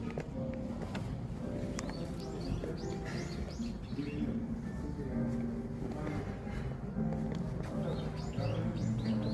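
Small birds chirp and pigeons coo outdoors in Anguk, Jongno, Seoul, light calls scattered over a steady murmur of distant city ambience.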